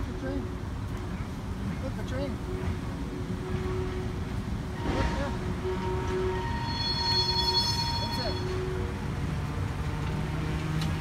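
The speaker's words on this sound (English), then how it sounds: "Look at the train." A train rumbles past at moderate distance, with a squeal of wheels rising later, while a child and an adult talk over the steady rolling noise.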